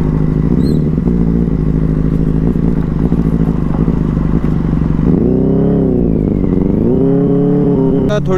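A superbike motorcycle revs hard and speeds along a road, a loud close engine roar that climbs and shifts pitch through gear changes with rising and falling surges near the end.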